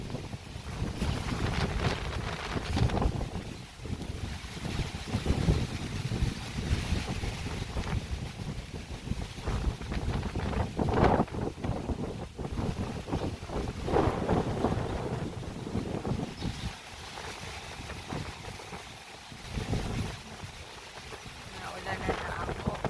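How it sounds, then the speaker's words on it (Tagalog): Strong wind on a boat near Coron, Palawan buffets the microphone continuously, with a low rumble and rushing noise like open water on a moving boat. "Lakas ng hangin."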